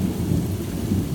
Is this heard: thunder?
yes